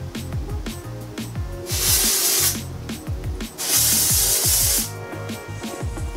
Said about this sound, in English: the dry shampoo definitely got rid of a lot of that faux shine